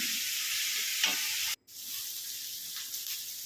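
Sliced onions sizzle steadily in a hot pan of oil for fish and prawn biryani, a constant bright hiss with a brief stir, a momentary gap, then the frying resumes evenly.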